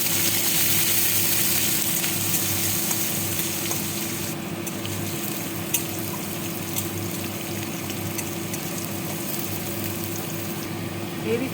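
Mustard seeds, cumin, a dry red chili, urad and chana dal and chopped garlic fry in hot oil as a tempering for tomato rice, giving a steady, close crackle and hiss that runs evenly throughout with no talk over it.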